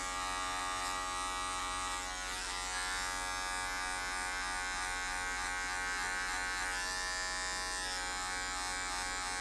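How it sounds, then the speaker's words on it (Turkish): Steady electric hair clipper buzz, fitted with a 1 guard (3 mm), running close and continuously while blending the lowest line of a skin fade haircut. "makinemin ağzını kapatıyorum ve tamamen bir numara yani 3 mm ile en alttaki hattımın geçişini de yumuşatarak burayı tamamlamak istiyorum"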